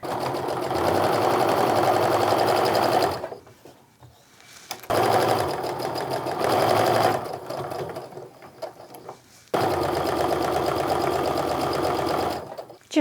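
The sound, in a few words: sewing machine stitching a Christmas stocking seam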